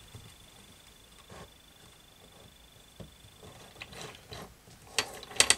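Shafts of a Husqvarna CT65 / KTM SX65 gearbox turned by hand during an engine rebuild, giving quiet, sparse ratcheting clicks and metallic ticks that grow sharper and louder near the end, with no talking.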